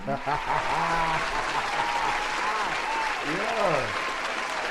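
Applause from an audience at an R&B showcase, steady clapping running throughout with voices and cheering rising over it, moderately loud and close.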